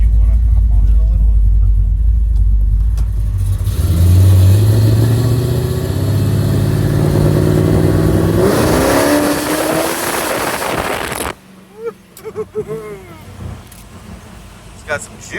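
A 1968 Chevy Impala custom coupe with a 540 V8 rated at 728 hp rumbles, then revs hard through a rising roar before cutting off, with people talking nearby.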